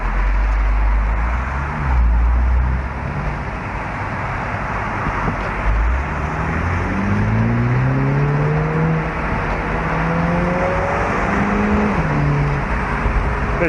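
A Mini Cooper S convertible's 192-horsepower turbocharged petrol engine hums and rises through the gears as it pulls away, steady and close, with no talking.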